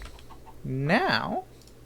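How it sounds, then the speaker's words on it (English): A Minecraft chicken gives a single short, rising-and-falling cluck over quiet background game sound. "thanks for the egg, chicken"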